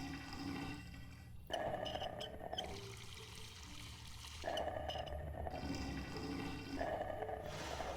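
Water pours and trickles in short bursts during a puzzle in the game Mystery Case Files: The Malgrave Incident, two or three separate pours, fairly faint, with no voices.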